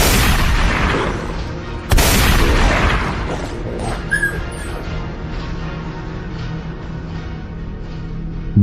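Two sharp gunshot blasts, the first near the start and the second about two seconds later, each leaving a long decaying echo that fades into quiet.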